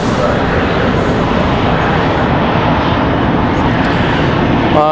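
JetBlue airliner jet engines at Raleigh Durham airport on a departure to San Juan, a steady loud broadband roar holding evenly throughout, with a speaking voice present.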